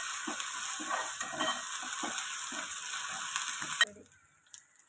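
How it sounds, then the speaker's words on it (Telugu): Ginger garlic paste fries in hot oil with a loud, dense sizzle and crackle close up that cuts off abruptly near the end, leaving near quiet with a faint tap. "అది కొంచెం పచ్చివాసన పోయేంత వరకు మనం బాగా వేయించుకుందాం."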